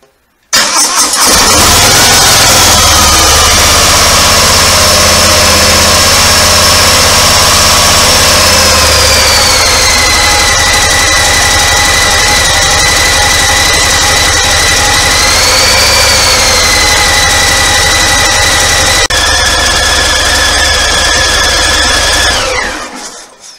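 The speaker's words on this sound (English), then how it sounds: "So there we go, engine remapped, and runs nicely" A Harley-Davidson Sport Glide with a Screaming Eagle Extreme Flow air filter, freshly remapped, starts and then idles steadily close by for about twenty seconds, its loud, even rumble running under a whining tone that shifts before it cuts off.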